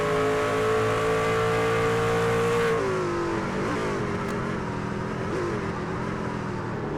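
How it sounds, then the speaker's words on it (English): A race car in the iRacing sim at Watkins Glen roars at high revs, its engine note dropping abruptly at a botched gear shift, then continuing rougher and lower, loud and continuous. "Oh no, that's a bad shift for Zach."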